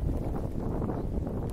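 Wind blows steadily past the microphone on a rainy day by Brighton pier, a close, dull buffeting rumble with no talking.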